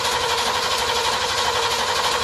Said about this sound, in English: So we're just going to crank the engine.